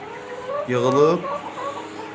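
A hen clucks once in a short, close, rising burst inside a henhouse, surrounded by quieter background clucks and low murmuring.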